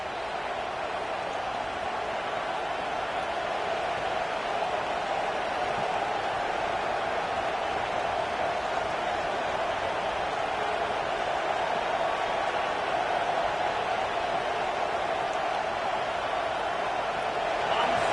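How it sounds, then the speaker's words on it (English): A stadium crowd at a college football game in NCAA 26 roars continuously, a dense, loud wash of sound that stays constant throughout while a commentator talks over it. "The roar of the crowd trying to fuel this defense to keep them pinned in their own end."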